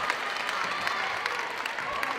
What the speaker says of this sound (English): And the Elmhurst fans sarcastically clap.